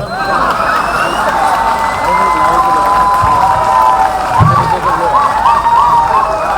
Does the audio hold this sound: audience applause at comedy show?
yes